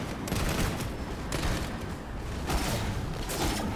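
Dense, continuous gunfire in the video game Planetside 2: rapid overlapping shots and booming impacts form a loud, steady barrage throughout, with no talking.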